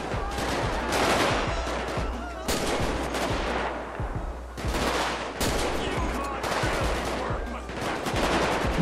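Rapid sniper rifle gunfire in the video game GTA V during a gang war, dense repeated sharp shots with loud bursts across the whole stretch and a constant low hum beneath.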